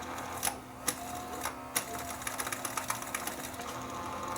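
Sears Silvertone STR 1700 four-track reel-to-reel recorder running its motor in rewind during servicing, a steady mechanical whir with a low hum and a string of sharp clicks and ticks, close and alone.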